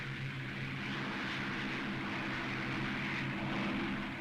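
Supermarine Spitfire engine at take-off, a steady droning propeller-aircraft roar held at an even level throughout, no speech.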